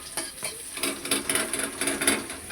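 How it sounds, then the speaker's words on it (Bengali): Thick-sliced onions fry lightly in a pan while a spoon stirs them, making repeated scraping clicks over a soft sizzle. "পেঁয়াজটা হালকা হালকা ভাজা হয়ে গেছে, আদা রসুন বাটাটা দিয়ে দেবো"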